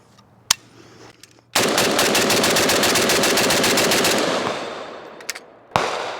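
A 7.62x39 Riley Defense Krink rifle firing lacquer-coated ammunition in one long rapid burst of loud, close shots lasting a few seconds, with a couple of isolated shots before and after.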